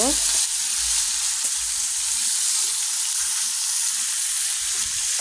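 Marinated pangasius fish pieces fry in a small wok, producing a loud, continuous close sizzle with faint low bumps, and no voices.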